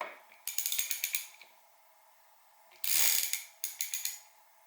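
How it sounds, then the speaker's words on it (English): Ratchet clicking in rapid bursts while turning the crankshaft bolt on a Honda XR500R engine during a top-end teardown, two spells of close, crisp clicks separated by a pause. "we can use the bolt in here to spin the crankshaft around to get there"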